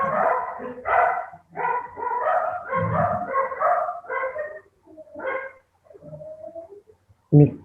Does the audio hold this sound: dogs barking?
yes